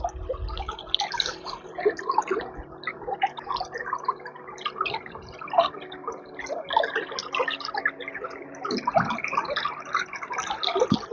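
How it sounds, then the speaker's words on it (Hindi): A river flowing beside a temple at Haidakhan gives a steady, gentle babble of moving water with scattered trickles and drips, continuous and fairly close throughout with no talking. "आप इस नदी की आवाज़ सुनिए केवल।"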